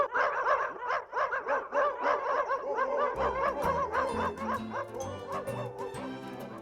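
A stray dog yelps, barks and whimpers in a steady run of short, close cries, with a second layer of whining and deeper sounds joining partway through and no talk.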